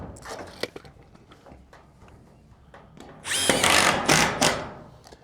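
A power drill drives screws into metal roofing on a large building, with short taps and whirs first, then a sustained loud whine of several bursts near the mic.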